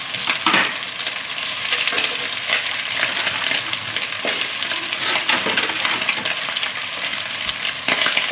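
Broccoli sizzles and crackles steadily in oil in a hot frying pan for a beef stir-fry, with a few sharper clinks and pops scattered throughout.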